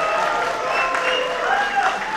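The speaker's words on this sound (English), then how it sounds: "Please clap for yourselves" Audience at a movie release screening in a theater applauding, a steady dense wash of clapping with some crowd noise, close and fairly loud throughout.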